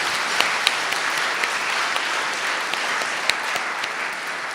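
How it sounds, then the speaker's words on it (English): Steady audience applause at an outstanding achievement award ceremony at the Bangladesh High Commission in London, a dense wash of many hands clapping continuously at moderate loudness with a few sharper individual claps standing out. "Big clap to that."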